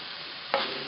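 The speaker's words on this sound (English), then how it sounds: "We're going to lay these tomatoes skin side down in that hot cast iron skillet." Tomatoes laid skin side down in a hot cast iron skillet give a steady low sizzle, with a brief brighter burst midway through this short moment.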